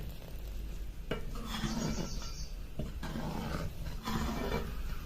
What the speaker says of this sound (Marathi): आता चेक करायचंय पळीने कितपत घट्ट आहे कितपत पातळ आहे